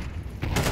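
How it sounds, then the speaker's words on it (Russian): Counter-Strike gunfire during a competitive esports match: a quiet stretch, then a loud sustained burst of rapid overlapping shots that carries through to the end. "Первый выстрел от Рокеля мимо."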